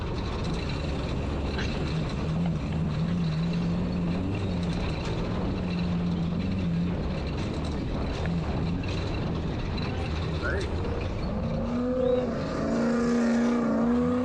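A desert racing trophy truck in Johnson Valley roars by, heard as a continuous loud engine drone with shifting pitch that rises into a sharper whine near the end, over wind and road noise.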